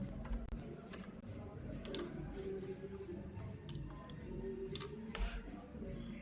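Typing on a computer keyboard, heard as scattered, irregular clicks of keys at a moderate distance over a steady background hum.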